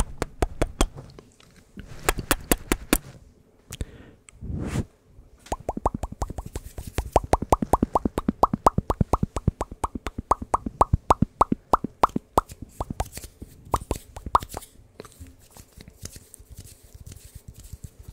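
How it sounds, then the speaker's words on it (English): Close-up ASMR kissing sounds made right on the microphone, a long run of wet smacks and pops with irregular pauses at first, then a dense, steady rhythm, very near and intimate, with no talking. "I'm kissing the mic."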